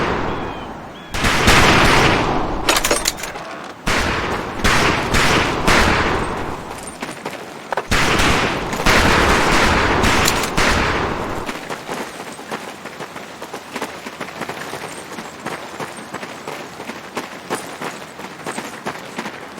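Rifle gunfire in the video game Medal of Honor: Pacific Assault: loud, rapid shots and bursts pile up densely in the first half, then thin to lighter, scattered cracks over a lingering background.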